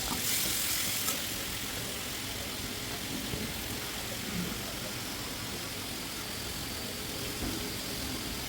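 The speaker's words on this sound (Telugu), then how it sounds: "నీరంతా పచ్చినీరంతా పోయిన తర్వాత నేను నూనెలో వేపుతాను" Prawns, heads included, frying in hot oil, giving a steady, even sizzle that holds at constant loudness throughout with no talking.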